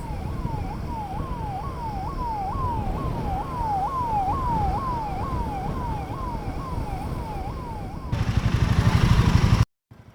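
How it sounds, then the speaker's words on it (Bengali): An ambulance siren wails in a steady rising and falling cycle on a highway in Arunachal Pradesh, heard from inside a moving vehicle with road rumble throughout. The engine noise swells louder near the end. "অ্যাম্বুলেন্স।"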